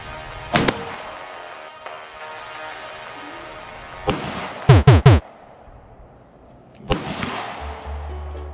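Gunshots crack at an outdoor shooting range: one shot, then another, a quick burst of three close together, and a final shot, each loud and sharp with short echoes between them.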